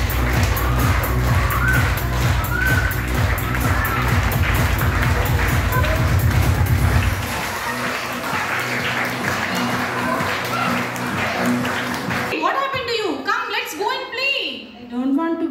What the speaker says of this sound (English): Join your hands, everybody. Clap for the launch.